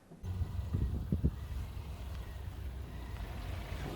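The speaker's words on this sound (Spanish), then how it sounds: "Vamos a arrancar el Jimny, metemos la reductora y vamos a ir a por ello" A Suzuki Jimny 4x4 engine idles into life with low-range gearing engaged, a low steady rumble that settles into an even drone after a brief start, with a few faint knocks early on.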